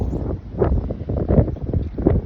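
Gusty wind buffets the microphone outdoors on a cold day, producing a continuous low rumbling roar that swells and dips in uneven surges.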